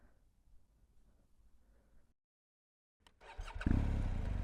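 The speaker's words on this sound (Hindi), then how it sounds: "So bike is in neutral, bike चालू हो गई है।" A BMW R1250GS motorcycle engine starts after a quiet pause and settles into a loud, steady idle in neutral, close by.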